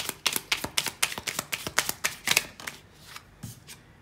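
A deck of tarot cards is shuffled by hand in a rapid series of soft, crisp riffling slaps, about a dozen in quick rhythm, close up and quiet, trailing off into a few sparse taps.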